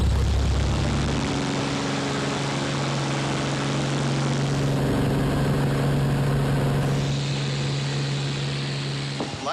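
A propeller airplane flies over the Yucatan, its engine and airscrew droning in a steady, loud, close hum with a constant low tone, slightly shifting pitch midway, and no voices.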